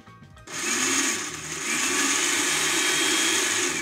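An electric kitchen blender starts abruptly and runs loud and steady, whirring and grinding through falafel mixture close by, with no talking.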